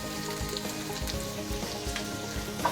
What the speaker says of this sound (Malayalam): ഒപ്പം തന്നെ പച്ചമുളക് ഇട്ട് കൊടുക്കാം